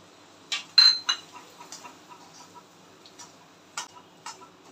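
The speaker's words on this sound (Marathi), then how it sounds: "रवा चांगला भाजून घ्यायचा आहे," Semolina (rava) roasting in ghee in a pan for sheera, heard as sparse light scrapes and clicks of a spoon against the pan over a quiet background.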